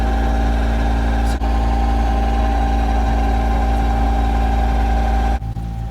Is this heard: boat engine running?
yes